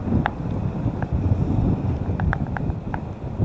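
Steady strong wind buffeting the microphone with low rumbling gusts on the zigzag road descent at Montalban, Payatas Road, a few faint clicks on top.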